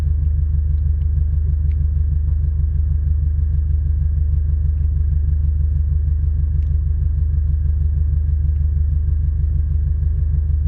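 A Scion FR-S on an E85 tune idles steadily at around 700 rpm, a loud, close, even low rumble with a fine regular pulse and no other sounds.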